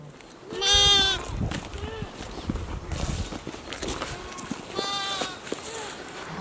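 Sheep in a large flock of about 600 at a pen in the Nepal hills bleat loudly in repeated wavering calls, with a second burst later, over shuffling hooves and nearby movement.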